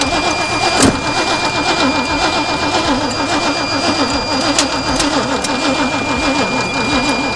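An old GMC K20 truck engine cranks with a loud, rhythmic starter whir that churns steadily and close for the whole stretch without catching, with a sharp metallic clack near the start.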